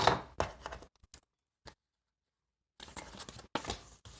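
Scissors snip through paper while trimming a corner bookmark, a few close, crisp cutting crunches at the start, a quiet gap, then another run of snips near the end.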